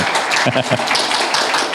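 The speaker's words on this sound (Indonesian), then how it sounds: "Tepuk tangan boleh nggak buat teman-teman yang dekor?" A church congregation applauds the decoration team with brisk clapping that runs throughout and has a few sharper claps standing out near the start, all within a short burst.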